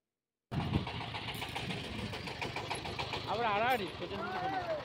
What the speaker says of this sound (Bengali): এই নৌকাটা ছেড়ে দিচ্ছিল এবং তাড়াতাড়ি করে চলে যাচ্ছিলাম, ওই জন্য নৌকায় উঠে পড়লাম।